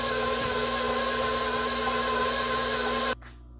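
An electric stand mixer beating eggs into pumpkin pound cake batter, a steady close motor whine with a constant hum that cuts off abruptly near the end, leaving a faint trace.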